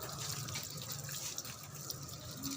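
A tap runs steadily during handwashing, a faint, even rush of water with no pauses and no voices.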